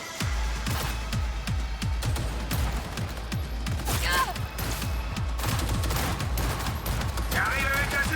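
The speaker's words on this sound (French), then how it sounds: "On m'a tiré dessus." Rapid gunfire in Cyberpunk 2077, a loud sustained fusillade of dense repeated shots with a deep rumbling low end, continuous across the whole stretch, with occasional game effects rising above it.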